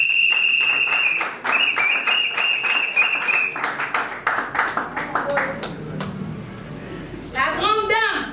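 An audience at an MLC political party gathering claps in short bursts, with a sustained shrill horn-like tone and a voice speaking over the crowd noise.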